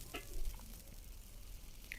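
Plenty of cooking oil heats in a pan for sambal goreng kentang ati, giving off a faint, steady sizzle with a few soft clinks near the start and end.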